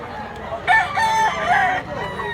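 A handsome blue-legged gamecock crows loudly and close, one drawn-out harmonic call lasting about a second, over steady background noise.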